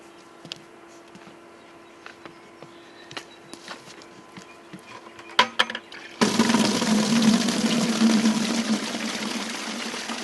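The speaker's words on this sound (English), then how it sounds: "And then fill the tank." Water pours from a bucket into a pig water tank for Tamworth pigs: quiet knocks and clunks first, then a sudden steady gushing rush that continues loud and even to the end.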